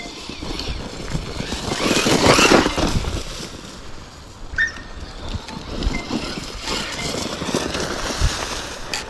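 Traxxas Hoss RC monster truck driving outdoors, its electric motor whining in rising and falling surges that swell loudest around the middle, with steady background noise and no talk.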